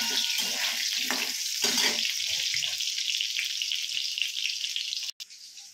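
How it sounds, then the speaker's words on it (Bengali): Potatoes fry in mustard oil in a wok, a bright continuous sizzle with some stirring and clinking early on, ending in a sharp click and a sudden drop to quiet. "প্রথমে কড়ায় একটু সরষের তেল দিতে হবে, তারপর আলুটা দিতে হবে। আলুটা কিছুক্ষণ ভেজে নেবেন লাল করার জন্য।"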